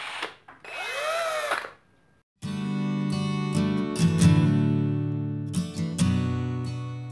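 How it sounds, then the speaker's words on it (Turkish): A cordless drill spinning in reverse to back out a screw, a steady close motor whine that starts abruptly after a brief higher sweep and holds for several seconds with slight dips in pitch. "Sol tarafındaki tetiğe bastığı zaman alet saat yönünün tersine dönüyor,"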